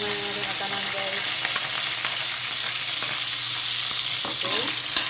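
Food sautéing in a pan for a sardine dish with odong noodles, giving a steady close sizzle with scraping stirs and utensil clinks throughout, no voices.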